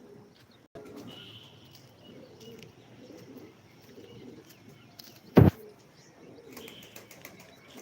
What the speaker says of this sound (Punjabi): ਇੱਕ ਉੱਡ ਗਈ ਕਬੂਤਰੀ